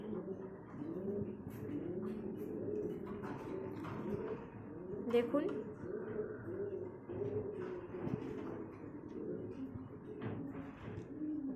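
Pigeons coo in low, rolling phrases that repeat throughout, moderately close, with a person's voice talking over them in places.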